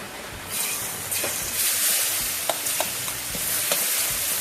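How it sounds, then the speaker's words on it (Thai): Garlic sizzling in hot oil in a wok for Thai shrimp fried rice, a steady crackling hiss with stirring and a few sharp scrapes and clinks of a spatula. "พอใส่น้ำมันร้อนเสร็จเดี๋ยวเราใส่กระเทียมกันเลยค่ะ"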